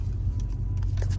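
A Dodge Hellcat engine on a test drive, heard as a steady low rumble from inside the car with small clicks and rattles over it, short and even.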